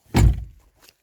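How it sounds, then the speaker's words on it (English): A Rover 45 car door shuts with a single solid, close thunk, followed by a brief faint rattle as it settles. "door shut, door open"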